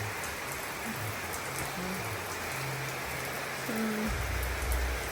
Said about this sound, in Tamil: அந்த மழை நல்லா இருக்குல்ல இந்த மண்மணத்தோட